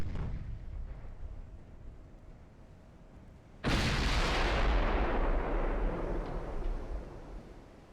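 A sudden, loud booming burst of warship secondary gunfire in Ultimate Admiral: Dreadnoughts erupts after a quieter low rumble, then sustains a heavy roar that slowly tapers off; no talking.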